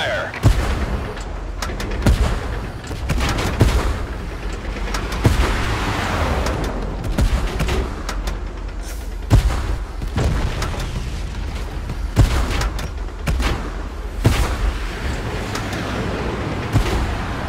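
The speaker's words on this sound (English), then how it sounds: "Gunfire!" Bursts of tank-battle video game gunfire and heavy booms crack out repeatedly over a dense, rumbling battle din, with scattered shots throughout.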